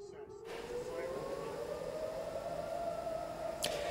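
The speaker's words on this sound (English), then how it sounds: "You can hear the air sirens there" Air raid sirens wail in Iran during a night of strikes, a steady distant rising tone that holds throughout against a broad background hiss.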